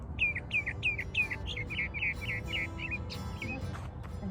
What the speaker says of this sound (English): An interesting bird.